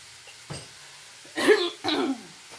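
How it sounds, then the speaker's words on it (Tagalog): A person coughs and clears their throat a few times, close and fairly loud, with short harsh bursts separated by brief pauses and no talking. "inuubo pa rin talaga ako"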